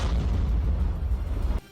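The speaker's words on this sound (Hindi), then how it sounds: "तभी उन दोनों के बेहद नजदीक एक और जोरदार धमाका हुआ।" A deep, heavy explosion booms loudly and rumbles for over a second before cutting off abruptly, sending up a fireball near Ukrainian soldiers during a Russian attack.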